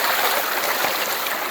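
Creek water rushing steadily over rocks at a trail crossing in the Ozark Highlands, a close, continuous broadband wash with no talk.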